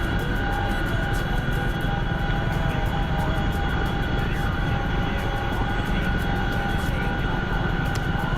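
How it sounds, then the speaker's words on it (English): A Chinook helicopter in a video game drones loudly and constantly, a dense, unbroken rotor and engine roar with a faint rapid rotor pulse throughout. "Man, the Chinook is so loud"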